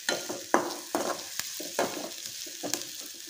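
Onion roasts in a pan for a homestyle Konkani mushroom curry, a spoon scraping and stirring in a series of sharp strokes over a constant frying sizzle, close by and with no talking.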